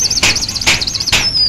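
Pigeons at a loft where racing birds are released and return, giving three short bursts of chirping or fluttering calls spaced about half a second apart over a steady high whistle-like tone.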